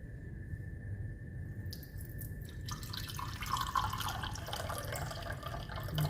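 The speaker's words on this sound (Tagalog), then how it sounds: "Ang ilagay nating tubig is half cup." Half a cup of water poured into a pan of sugar for caramel, a steady soft trickling and splashing stream heard close and fairly quiet, with no talk over it.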